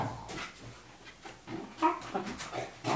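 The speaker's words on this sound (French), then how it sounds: "il y a les deux chiens" Two dogs pant and whimper indoors in short, uneven bursts, with a few higher yelps near the end, fairly close and moderately loud, no talking.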